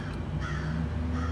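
A crow caws over a parking lot, its harsh calls filling the short clip with steady surrounding outdoor noise and no talking.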